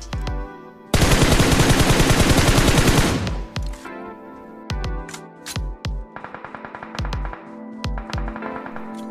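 Battle royale video game gunfire: a loud, close sustained burst of automatic fire, then scattered single shots and short rapid bursts with brief gaps between them.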